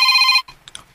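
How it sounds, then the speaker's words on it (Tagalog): A cellphone rings in a steady electronic tone close by, then cuts off abruptly, followed by faint scattered noises. "Naibabagting mo cellphone"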